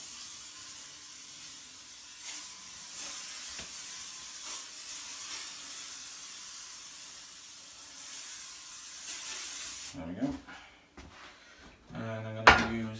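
Cillit Bang cleaner spray hisses in a run of short bursts, faint and close, before a brief clatter near the end.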